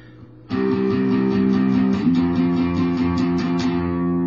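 A distorted electric guitar power chord rings out, strummed repeatedly in an even rhythm, loud and close with no voices.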